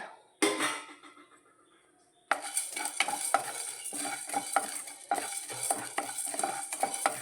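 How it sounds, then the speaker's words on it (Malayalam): Close up, a spoon scrapes and stirs coriander seeds, chana dal, cumin, black pepper, fenugreek and urad dal dry-roasting in a pan, with quick rhythmic strokes and a faint crackle after a brief pause. "മല്ലി കടലപ്പരിപ്പ് ജീരകം കുരുമുളക് ഉലുവ ഉഴുന്നുപരിപ്പ് ഒന്ന് വറുത്തെടുക്കട്ടെ"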